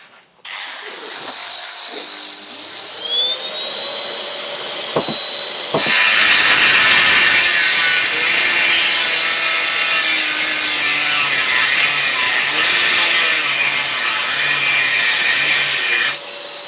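A high, whining rotary engraving tool with a 45 mm diamond disc grinds steadily into hard ceramic tile, growing louder and harsher halfway through and continuing without a break.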